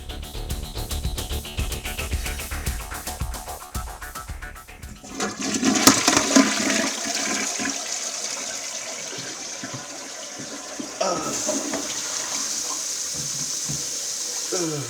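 A household toilet flushes with a surge of rushing, gurgling water that swells partway through and keeps draining steadily to the end, over a noisy background.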